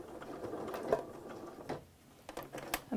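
A sewing machine runs in short bursts while stitching binding onto a fabric potholder, with a steady mechanical whir broken by brief pauses and light clicks, close up.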